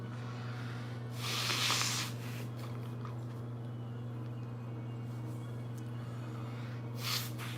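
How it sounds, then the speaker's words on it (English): Someone blows their nose in one long, forceful honk, then gives a shorter blow near the end, over a steady electrical hum. "let me blow my nose"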